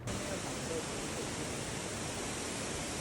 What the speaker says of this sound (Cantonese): 所以成個瀑布會更加澎湃